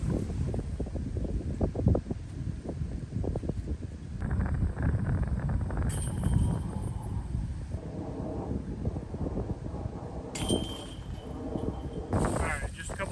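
Wind blows across an outdoor disc golf course, buffeting the microphone with loud, gusty rumbling that rises and falls throughout.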